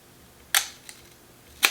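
A Leica M2 rangefinder camera with a faulty shutter fires at its 1-second setting: a sharp, close click, a faint tick, then a second crisp click about a second later, in a quiet room.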